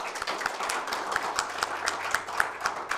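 Scattered hand clapping from an audience at a women's art prize ceremony, a steady patter of claps at moderate distance with no voices.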